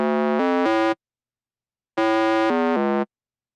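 A plain square-wave synth bass layer plays two short phrases of three stepped, buzzy, harmonic-rich notes each, separated by about a second of silence, loud and alone.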